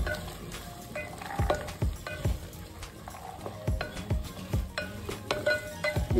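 Fresh green peas fry in oil in a pan for matar pulao, a soft steady sizzle broken by repeated metal clinks and scrapes of a stirring spoon against the pan, close and fairly quiet.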